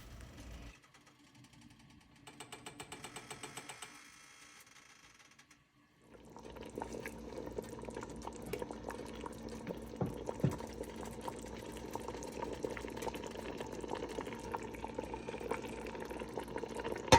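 Bone soup for a Ghanaian collagen broth bubbling in a pot, a quiet steady simmering crackle that takes over after a brief pour of water and a mechanical hum early on.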